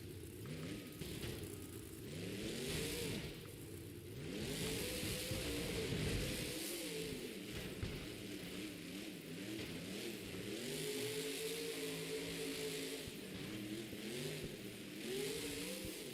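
A monster truck engine roars and revs in an arena during a stadium wheelie, with rising and falling pitch sweeps over a constant crowd-filled rumble heard from a distance.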